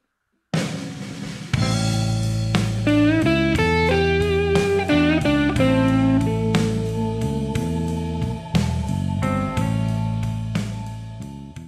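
A simple, mellow blues guitar lick over a slow blues, with plucked notes and short phrases ringing with sustain and some slight effects coloring, steady and clear with no talking.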